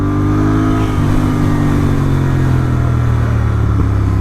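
Royal Enfield Interceptor 650 motorcycle fitted with an S&S camshaft, accelerating with a loud, continuous engine roar that climbs steadily in pitch, heard from the rider's position.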